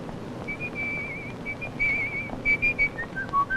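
A person whistles a melodic tune in clear, sustained notes, with short pauses between phrases, over a faint background hum.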